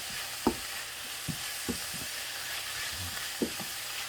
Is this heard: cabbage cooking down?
yes